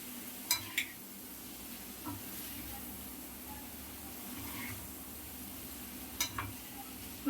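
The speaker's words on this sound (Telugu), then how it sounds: "ఫోర్క్ కానీ స్పూన్ కానీ తీసుకొని ఇలా కలిపేయడమే" Fork stirring Maggi egg noodles in a pan, soft scraping and a few light metallic clinks over a quiet, steady sizzle, faint and close with no talk.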